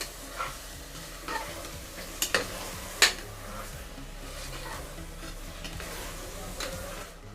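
Prawns sizzle and get stirred in a pan while cooking for prawn biryani, a steady soft frying hiss with a few sharp spoon-against-pan clinks partway through.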